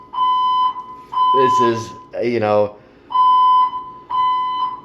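A building fire alarm sounds in loud, steady electronic beeping bursts of about a second each, repeating with short gaps, while a person briefly talks between the tones.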